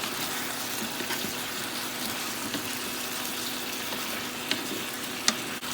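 Chicken tinola with papaya and lemongrass simmers in a pot, a loud, even wash of bubbling and hissing with a couple of sharp knocks near the end.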